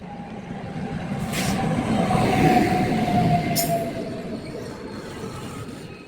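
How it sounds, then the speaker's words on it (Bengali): An LHB-coached Black Diamond Express pulls into a station with a low, steady rumble that swells toward a peak midway and then gradually eases, with faint high squeals above it. "অলমোস্ট এক ঘন্টা লেটে এই ব্ল্যাক ডায়মন্ড আজকে এখানে এলো"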